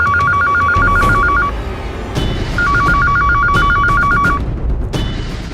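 A telephone rings in two bursts of rapid electronic trills, loud and close over a dense, noisy indoor background, with a short pause between the bursts.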